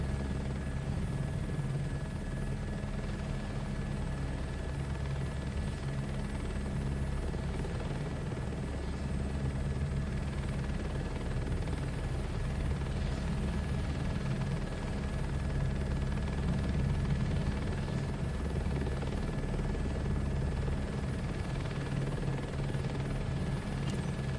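A helicopter flies in Microsoft Flight Simulator 2024, with a steady, close rotor and engine drone that continues without a break and without any voices.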